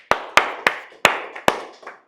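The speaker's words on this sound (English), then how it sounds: "Let's give Simon a big round of applause." A few people in a small audience clap, giving five sharp, separate claps spaced about a third of a second apart with a fainter one near the end, close and otherwise quiet.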